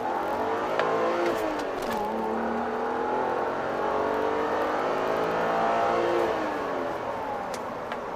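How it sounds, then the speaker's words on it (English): A BMW E90 330i pulls hard at full throttle, its engine note climbing steadily in pitch through the revs, loud and continuous from inside the car. "so we'll come out here and give it some gas. I'll give you full pedal."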